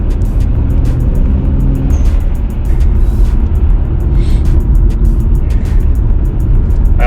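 A Toyota Aristo with a 2JZ engine and an HKS SSQV blow-off valve, heard as a loud, constant engine roar with repeated sharp hissy bursts across the clip.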